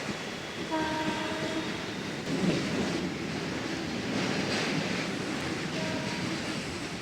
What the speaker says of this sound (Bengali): বন্ধুরা আমাদের ট্রেন পৌঁছলো দমদম জাংশন স্টেশন